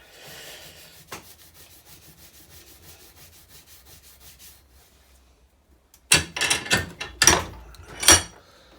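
A Scotch-Brite pad rubbed over metal parts of a model locomotive, a soft rhythmic scrubbing that fades out, then several louder, sharper rubbing strokes close by.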